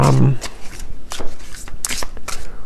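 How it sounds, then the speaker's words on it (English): A Beyond Mind Oracle card deck is shuffled by hand, with loud close riffling and slapping bursts in an uneven rhythm. "And I just shuffled my deck here, which is the Beyond Mind Oracle"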